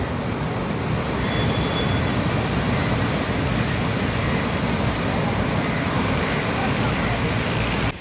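Sea waves on the beach at Puri make a steady, loud, unbroken roar of surf with no distinct breaks, filling the whole stretch.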